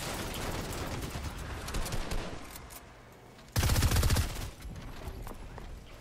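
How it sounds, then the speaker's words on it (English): Automatic gunfire in the Fortnite Reload video game, bursts of rapid shots rattling in the distance amid busy game noise, with one louder, closer burst partway through. "I hear gunshots."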